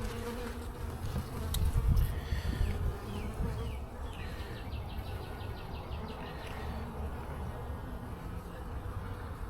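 Honeybees buzz steadily at the front of a hive in early March, a dense continuous drone of many insects close by, with a few louder thumps early on and no talking.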